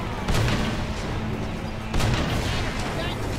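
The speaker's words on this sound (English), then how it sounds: "a section of the church went down or something" A section of a church collapses during combat in Mercenaries 2: two heavy booming crashes about a second and a half apart rise over a constant din of battle noise.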